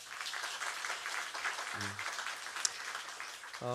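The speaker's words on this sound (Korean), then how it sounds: "우리 말씀을 전해주신 우리 선교사님의 큰 박수 부탁드립니다." A church congregation applauds the missionary at a Friday worship service, steady dense clapping from a crowd throughout, with a brief voiced tone rising near the end.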